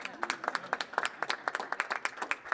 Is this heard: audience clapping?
yes